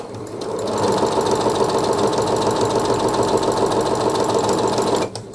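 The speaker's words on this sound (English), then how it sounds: "To demonstrate the snips, just going to do a straight stitch," A Pfaff Passport sewing machine runs a straight stitch with a steady, rapid mechanical whir and needle chatter, close and loud, for about five seconds before stopping abruptly.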